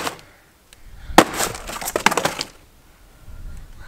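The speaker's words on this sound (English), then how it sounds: "You've smashed the phone." A phone is smashed with a hammer from a mystery box: a sharp cracking impact, then a burst of breaking, crunching glass and plastic lasting about a second, followed by quieter shuffling.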